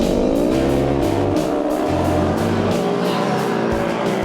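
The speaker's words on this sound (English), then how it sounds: "the rest of the pro UTV field starts the race" Pro UTV race cars roar off the line at a desert race, loud engines revving in pulsing surges with rising and falling pitch as multiple vehicles accelerate close by.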